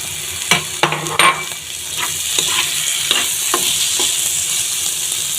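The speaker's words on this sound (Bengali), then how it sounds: "এবারে আমি আরও কিছুক্ষণ এগুলো ভেজে নেব।" A stuffing of chopped raisins, cashews and fried shrimp sizzles and is stirred in a pan, a steady close frying hiss with several sharp scraping stirs near the start, with no voices.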